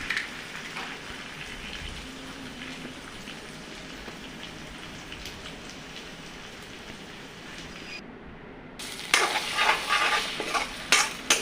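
Two eggs frying in a pan for spicy egg masala Maggi, a steady close crackling sizzle with stirring scrapes that grows louder and busier near the end, no talking.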